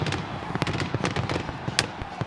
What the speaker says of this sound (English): They really wanted to hear the fireworks here in West Lafayette